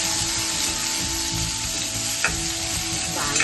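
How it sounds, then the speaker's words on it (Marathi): Garlic cloves, a piece of ginger and a hot green chili frying in a pan, with a loud continuous close sizzle and a couple of brief stirring scrapes. "चांगला आपण गुलाबी कलर येईपर्यंत भाजून घेऊया."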